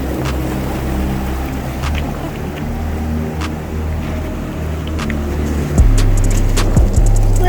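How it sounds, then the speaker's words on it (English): Ocean surf washes onto an Oregon beach, a loud continuous roar of breaking waves with rumbling low tones and wind, rising as a fresh wave rolls in near the end. "Watch out for the surf coming."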